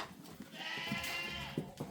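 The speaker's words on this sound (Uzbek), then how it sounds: "Mana bu echki ham sutli echki ekan" Goats, including milking does with kids, bleat on a farm in Samarkand, several calls rising over a low background hum without any talk.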